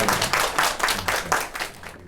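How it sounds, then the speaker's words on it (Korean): Audience clapping for a chef at an LG Dios induction cooktop social media day event, a few seconds of moderate applause in bursts that thins out and fades at the end. "박수 한번 부탁드립니다."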